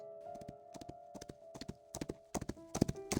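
In a video game, horses' hooves clop through a forest in quick, uneven clusters that grow busier and louder toward the end, with a sustained musical tone running underneath and no speech.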